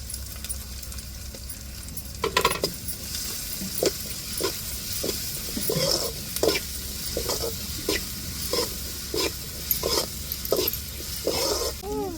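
Garlic frying in a pan and being stirred, a steady sizzle broken by repeated scraping strokes of a spoon, close and fairly loud, with no one talking.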